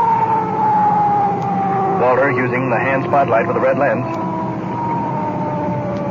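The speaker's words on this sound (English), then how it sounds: "Cut in our siren." A wailing police car siren during a night pursuit in downtown Los Angeles rises and holds over engine and road noise, with someone narrating over it.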